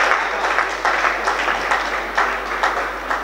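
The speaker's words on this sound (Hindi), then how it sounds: "अगर आप लोगों को लगे मेरा काव्य पाठ अगर सफल हो रहा हो तो एक बार जोरदार तालियों से मुझे सूचित कीजिए।" An audience at a Hindi poetry reading breaks into strong applause, with the clapping swelling in rhythmic waves throughout the short burst.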